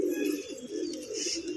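Tournament pigeons give a short, soft coo close by, a single brief burst of low throaty calling with no talking.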